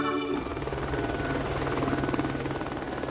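Helicopter in flight, a loud continuous rotor chop with steady engine whine, close and unbroken throughout with no pauses.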